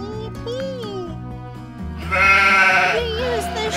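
A cartoon sheep bleats in a children's animal-learning show, a wavering bleat rising over bright background music, with a voice speaking nearby.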